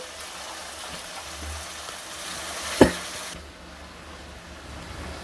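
Onions frying in a pan for an East Godavari tamarind rohu fish curry, a soft steady sizzle with one sharp clatter near the middle, then a quieter fry.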